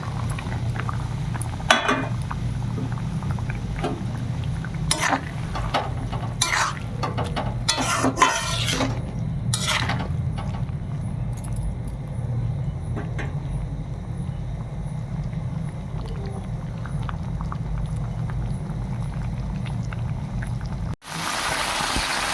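Small fish curry simmering in a pot, a low steady bubbling hum broken by occasional sharp clicks and clatters of a utensil, ending abruptly in a brief burst of broad noise.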